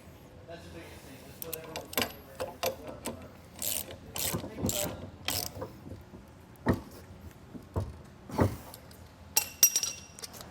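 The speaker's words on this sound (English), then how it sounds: "So I'll hold it with my pliers again and tighten it down with our wrench." A wrench tightening a nut down against a lock washer on a trailer hitch weight-distribution bracket while pliers hold it, giving intermittent ratcheting clicks and metallic scrapes in short bursts, with someone talking at times.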